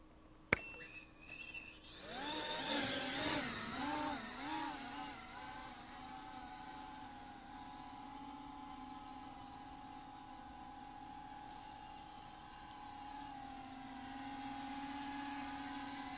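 An FPV quadcopter drone's motors spin up and then hold a steady hover, giving a continuous high, whining tonal buzz that wavers briefly and then settles. It is close and moderately loud, with no talking.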